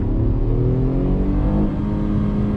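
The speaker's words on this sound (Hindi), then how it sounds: "First gear, speed coming up." Tata Punch car accelerating hard in first gear, engine note loud and close with rising harmonic revs in a continuous drone from inside the cabin, no speech over it.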